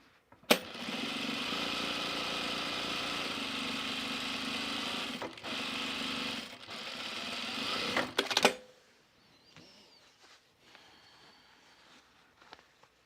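A sewing machine stitches overalls fabric in a steady, close whir lasting about eight seconds, with brief pauses, then stops abruptly, leaving quiet handling noises.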